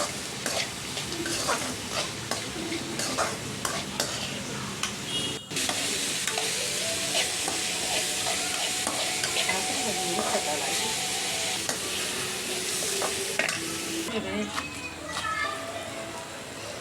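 A fried poha mixture with turmeric and salt is stirred in a pan, producing a soft continuous sizzle and hiss with repeated utensil scrapes and taps; voices murmur faintly in the background throughout.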